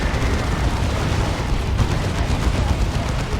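Fire Prism tanks firing at a Crusader in the Dawn of War 2 battle game: a continuous, dense rumble of blasts and booming fire, steady and loud throughout, with no clear pauses between the shots.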